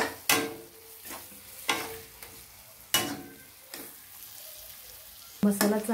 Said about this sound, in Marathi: मसाला चांगल्या प्रकारे सगळं भाजलं गेलेलं आहे